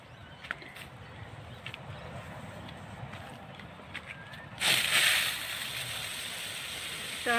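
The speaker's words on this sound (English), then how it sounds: "I'm going to put a fair bit of water in there so that it all soaks down nice and deep" Water pours into a potted Dwarf Red Dacca banana plant, a sudden gush that splashes loudly into the soil for about a second, then settles into a softer trickle after quiet handling sounds.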